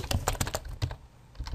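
Rapid typing on a computer keyboard while entering Unity3D game code, with quick clusters of key clicks and a brief pause before a few more taps, close and clear.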